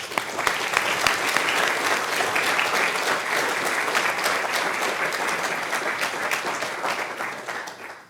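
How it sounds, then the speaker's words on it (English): A conference audience at a machine learning talk gives a sustained round of applause, many hands clapping loudly and evenly for about eight seconds before tapering off at the end. "So I think we should give them a round of applause."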